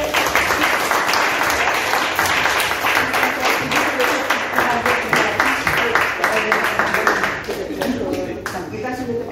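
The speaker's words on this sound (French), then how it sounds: "Je pense qu'on peut encore les applaudir." An audience at a school poster-contest ceremony applauds with steady, brisk clapping that carries on for several seconds, then thins out and fades toward the end, with voices faintly mixed in.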